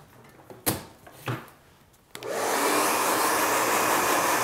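A couple of clicks and knocks, then a blow dryer switches on and roars steadily with a loud, even whoosh of air, close up, blowing loose hair away after a haircut.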